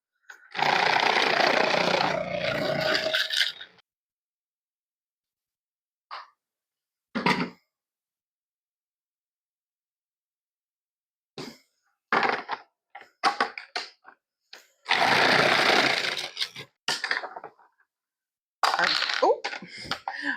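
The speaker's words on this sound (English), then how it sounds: "If you have a food processor and don't have a slicing blade, man, it makes this go so much faster than hand slicing all these Brussels sprouts." Food processor fitted with a slicing blade shredding Brussels sprouts, loud grinding bursts a few seconds long separated by silences, with clunks and rattles of sprouts being fed and the lid handled.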